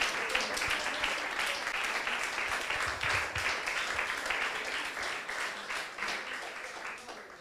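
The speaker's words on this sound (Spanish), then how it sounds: "Dale un aplauso al Señor." A church congregation applauds during a Sunday service, with steady, dense clapping from a crowd at moderate level and faint voices mixed in, continuing throughout.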